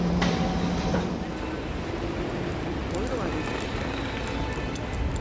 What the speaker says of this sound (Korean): 경전철이었습니다.